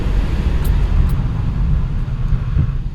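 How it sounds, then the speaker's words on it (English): A Subaru Outback XT's low, juddering rumble as its ABS brakes activate, pulsing and grinding, loud and close, with no voices. "yeah, we definitely activated the ABS."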